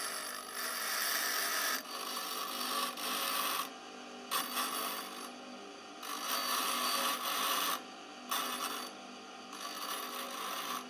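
A harsh, rasping grind in repeated bursts of a second or two, each broken by short gaps, as a drill-driven dresser abrades a sharpening stone up close.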